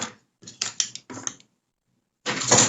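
A domestic sewing machine stitches through an unlined denim slipper, running in several short bursts of rapid mechanical clatter, pausing to near silence, then restarting with a longer, louder run of close stitching.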